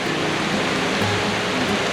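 Steady, dense rain pours down close by as a continuous hiss with no gaps, loud and alone throughout.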